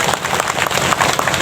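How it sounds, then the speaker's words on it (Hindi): A crowd at a spiritual discourse claps enthusiastically, a dense, continuous burst of many hands that stays loud and even throughout, without anyone speaking. "जोश ताली बजा दीजिए।"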